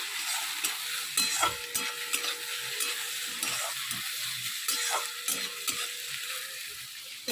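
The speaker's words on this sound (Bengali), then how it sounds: "এখন চাউমিন করব বলে একটু আলু পেঁয়াজ ভাজ ভেজে নিচ্ছি" Potatoes and onions frying in a pan ahead of making chow mein, a constant close sizzle with bursts of spatula scraping and clinks in two stirring spells, and no one talking.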